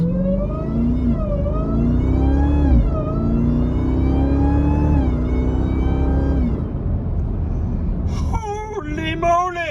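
Jeep Trackhawk engine with a cold air intake pulling hard, a loud close roar climbing through several gear shifts with a supercharger whine on top, then easing off as a man exclaims near the end.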